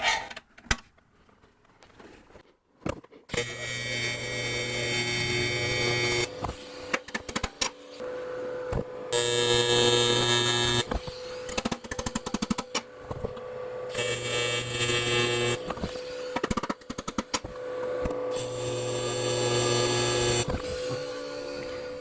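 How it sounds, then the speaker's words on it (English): Seat mount end caps are tack welded in a series of crackling, buzzing bursts of several seconds each with short breaks, loud and close over a steady hum. "now I'll tack weld them into place."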